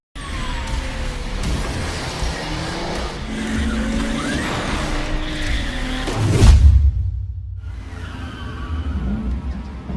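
A race car speeds hard through a movie race, its engine roaring loud and close with tyre squeal and skidding, then a sudden heavy thump before a brief near-silence and the engine noise returning.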